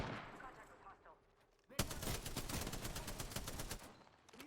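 Sniper shot in a video game: a sudden sharp crack rings out mid-clip, followed by a dense run of rapid gunfire bursts over game background noise.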